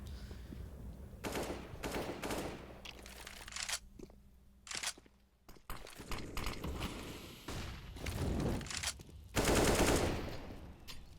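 Rapid automatic gunfire in a competitive CS:GO tournament match, with dense bursts of rifle spray and a few sharp single shots, some fired through a wall, close and loud with only faint voices beneath.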